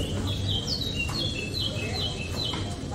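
Birds chirp repeatedly on a restaurant terrace in Portugal, with short, high calls every half second or so over a low murmur of background noise.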